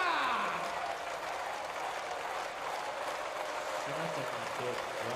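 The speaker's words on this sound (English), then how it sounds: "You know why the fans are cheering." Basketball fans at a Japanese B.League game between Ibaraki Robots and Levanga Hokkaido cheer and applaud as a dense, steady arena roar that starts loud and stays sustained, with faint voices mixed in.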